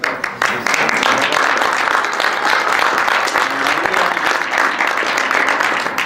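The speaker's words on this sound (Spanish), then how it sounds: "pues un aplauso" Sustained applause from an audience, steady and dense throughout, with a faint voice briefly audible beneath the clapping.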